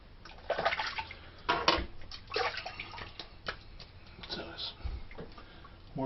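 Running water splashes close by while someone rinses off after a shave, with irregular bursts of flow and a voice speaking over it.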